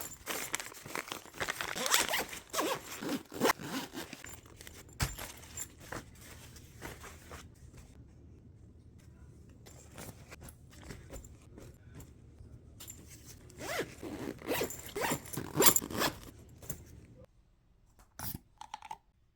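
Compression packing cubes are zipped shut with several bursts of close, raspy zipper pulls, joined by rustling and clicking as travel gear for a baby and toddler gets packed; a stretch of quieter handling falls between the louder zipping.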